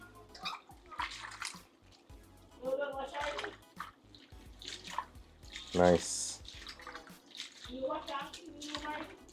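Water splashes and drips intermittently as goat meat for curried goat is rinsed in a kitchen to wash out salt, with a brief pouring burst midway and a person speaking between the sounds.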